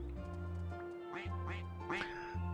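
Three sharp duck quacks from a video game farm in No Place like Home, close and clear over a steady droning game soundtrack, with no talking.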